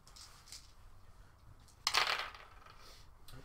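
Dice rolled during a tabletop wargame of Zone Mortalis, 30k: one quick burst of plastic dice clattering and tumbling on a hard surface, close and brief, within an otherwise quiet room.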